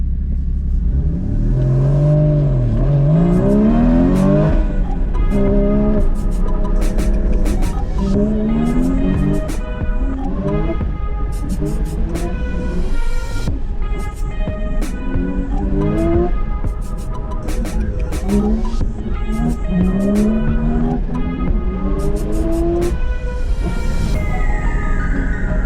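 Porsche GT4 (981) at an autocross, its engine revving hard and dropping repeatedly through the corners, loud and close, with rapid rises and falls in pitch throughout.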